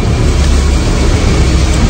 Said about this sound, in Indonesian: Sepanjang perjalanan itu, hanya dengungan suara mobil saja yang terdengar di telingaku.